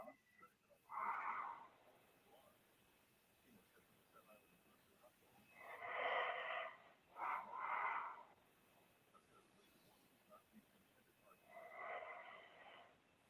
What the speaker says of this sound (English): This dude's snoring right now.